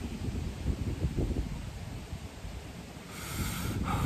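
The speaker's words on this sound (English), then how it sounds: "I'm getting hit with a little bit of a gust of wind right now" Outdoor wind gust buffets the microphone, a broad rumbling rush that swells and eases steadily throughout, strengthening toward the end, with no voices.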